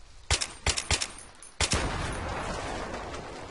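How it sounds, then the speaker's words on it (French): A vehicle explodes in a modded Minecraft game: several sharp, loud bangs in quick succession, then a sustained crackling roar that trails off, with no talk over it. "Ah bah, vous avez vu l'explosion d'un véhicule."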